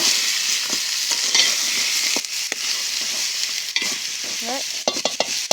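Crab curry sautés in a pan, its oil sizzling steadily while a spoon scrapes and stirs in irregular strokes, close and fairly loud.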